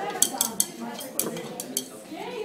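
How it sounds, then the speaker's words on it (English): A utensil clinks and scrapes against the side of a pot while soda with salt in it is stirred, giving several sharp metallic taps in an uneven rhythm, close by, with a voice talking over them. "I am stirring a pot of soda with salt in it"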